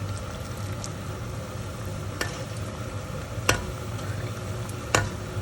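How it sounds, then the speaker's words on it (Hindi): Arbi leaf patra rolls frying in hot oil, a steady soft sizzle and bubbling with a few sharp clinks of a utensil against the pan, close and continuous with no talk. "ये देखें जी अच्छे फ्राई हो चुके हैं।"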